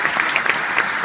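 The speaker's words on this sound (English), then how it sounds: "Make some noise out there. What a crowd. What a crowd." A crowd at a live PPG Duke Out event applauds loudly, a dense steady patter of many hands clapping close by with scattered sharper claps and faint shouts, no clear speech over it.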